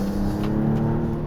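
Maserati MC20 sports car engine under power as the car holds tight through a corner: a brief, steady, loud rumbling drone with a hard-edged mechanical buzz and no speech.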